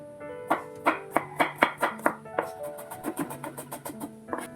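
A knife chopping an onion on a board, a quick regular series of sharp close taps, steady at first, then lighter and faster.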